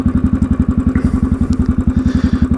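Royal Enfield Classic 500 motorcycle single-cylinder engine running close by, a steady loud thumping beat at roughly ten pulses per second with mechanical clatter on top.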